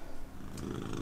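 A cat purrs on a desk, a close, soft, continuous rumbling purr lasting about a second.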